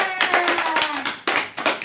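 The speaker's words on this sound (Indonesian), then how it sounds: "Tepuk tangan dulu buat Ilun yang sudah bertanya." A short burst of hand claps from a small group of children in a classroom, uneven and overlapping, with several sharp slaps standing out close by.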